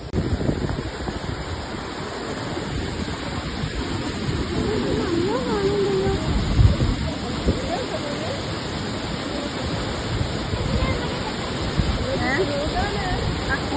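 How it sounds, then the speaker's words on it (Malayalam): Urukkuzhi waterfall at Kakkayam pours steadily with a broad, continuous rushing roar, close and loud throughout, with faint voices and a few bird calls drifting in under the water. "ഈ വെള്ളച്ചാട്ടം മുകളിൽ നിന്നും താഴോട്ടേക്ക് പതിക്കുന്ന കാലത്തില്ല"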